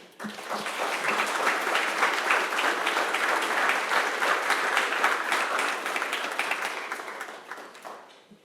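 An audience at a Civil War–era history lecture applauds to welcome a speaker, a steady sustained burst of clapping from a full room that swells quickly and fades out after about eight seconds.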